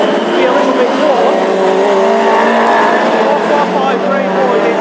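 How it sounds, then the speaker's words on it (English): A loud classic hot rod race car engine roars continuously during a heat at Birmingham, thick and steady with shifting revs, mixed with other cars on the track and a voice talking over it. "Certainly Rob Montagna's car lying in 3rd place, one of the loudest cars here tonight."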